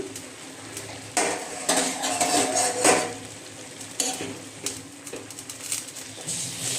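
Dhekir shaak fern greens are stirred and tossed in a pan with a metal spatula, giving scraping clanks and rustling bursts over a soft frying sizzle, close by with no talking.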